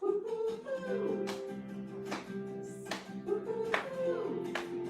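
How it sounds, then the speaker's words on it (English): Children clap their hands along to a cheerful sung tune at storytime. Soft, evenly spaced claps land on the beat beneath the singing and melody. "Clap, clap, clap your hands."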